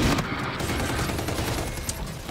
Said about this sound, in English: can I show you the first ever shot I took with the KBS longbow?